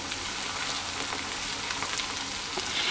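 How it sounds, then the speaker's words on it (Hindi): Malai kofta balls frying in hot oil, a loud dense hiss of bubbling oil that stays steady and close the whole time, with no voices. "इनको हर तरफ से हमने ब्राउन लाइट ब्राउन होने तक थोड़ा सा फ्राई करना है।"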